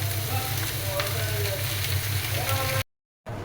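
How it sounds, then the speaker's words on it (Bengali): Onion, garlic and dried chillies frying with steamed bottle gourd greens in a pan, a steady close sizzle that cuts off abruptly near the end before resuming briefly. "ভাজি করার জন্য পেঁয়াজ, রসুন, শুকনো মরিচ খুব ভালোভাবে ভেজে নিলাম গোল্ডেন ব্রাউন করে, আর স্টিম নেওয়া লাউ শাক দিয়ে দিলাম।"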